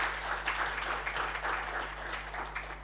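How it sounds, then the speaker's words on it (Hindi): Audience applause welcoming a lyricist guest at a literary event in Jodhpur, a steady wash of clapping from a crowd, sustained and even over a low electrical hum. "आइए जोरदार तालियों से स्वागत करते हैं"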